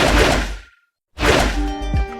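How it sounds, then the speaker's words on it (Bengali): Two heavy punch impacts from a fist skin in the Free Fire video game, each a sharp thwack with a whooshing tail, separated by a short silence, the second ringing slightly. "ফিস্ট স্কিনের সাউন্ড ইফেক্টও অসাধারণ।"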